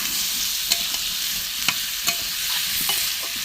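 Pointed gourd and fried potato pieces sauté with spices in a pan over a wood stove, giving a steady, close sizzle broken by several sharp spatula scrapes.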